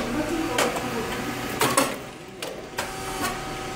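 A rice cake machine popping plain rice through a small feeder gives a few sharp bursts over a steady mechanical rumble, with hiss and clatter in short, loud pulses.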